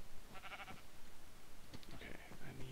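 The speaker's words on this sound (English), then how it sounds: "Black sheep." Black sheep in Minecraft bleating, two short wavering bleats with a pause between them, moderately close over faint game background noise.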